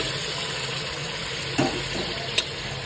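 Chicken pieces sizzle as they are stirred into potatoes frying in a pot, a steady close sizzle with a couple of brief clatters from the stirring.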